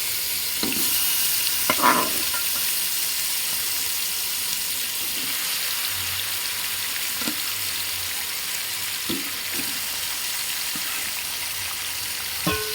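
Marinated chicken sizzles and fries steadily in a pot for chicken dum biryani. The hiss stays loud and constant, with occasional soft clinks and stirring knocks.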